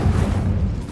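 The Incendio fire spell cast in Hogwarts Legacy, a dense, low rumbling whoosh of flame that holds steady and loud for just under a second.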